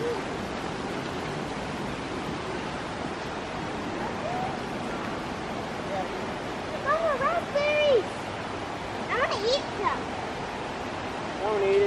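A river rushing steadily outdoors in Sedona, Arizona, a continuous broad wash of flowing water close by, with voices talking over it in the second half.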